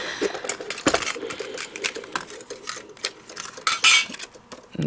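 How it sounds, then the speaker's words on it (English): A die in a Diamond Press cuts through a plastic sheet, giving close, scratchy crackling and clicking pops in irregular bursts, with no talking. "you can hear that's how it sounds cutting into that plastic"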